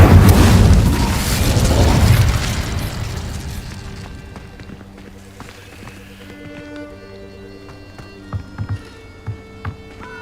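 A Confringo blasting spell explodes in a Harry Potter video game: one loud booming blast that rolls and decays over several seconds, followed by quiet ambience with a few soft thuds.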